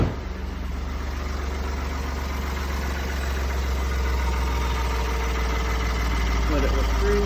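A high-mileage Ford EcoBoost engine at 233,000 miles, freshly changed to 5W-30 oil, idles steadily and close by after starting, a constant low rumble with faint ticking, while a person talks over it.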